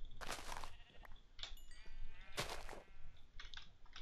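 Sheep in a video game bleating in faint, repeated wavering calls over soft keyboard typing and low background noise.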